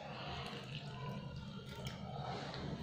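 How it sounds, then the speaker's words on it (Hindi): Half a cup of water poured into besan (gram flour) batter for besan chutney, heard as a faint, steady, continuous trickle. "1/2 कप पानी डालिए और घोल को ऐसे बना लीजिए"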